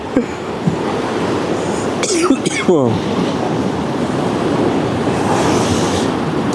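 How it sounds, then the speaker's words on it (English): Ocean waves crash against a shore at night, a loud continuous roar of surf churning and washing in, with wind buffeting the microphone and a brief vocal sound midway. "The waves are just unbelievable."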